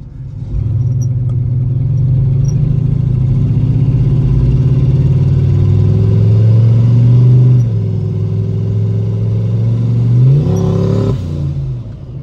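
A Chevy Tahoe fitted with a budget turbo setup accelerates under a loud, sustained engine drone that climbs steadily in pitch, eases off briefly, then revs up again before lifting off near the end.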